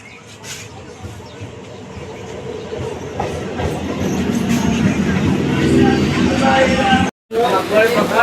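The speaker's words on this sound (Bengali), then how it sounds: "ট্রেন ঢুকছে" A crowded passenger train on the Digha route pulls into a station. A rolling rumble and wheel clatter build steadily and loud, then cut out for a moment near the end before resuming.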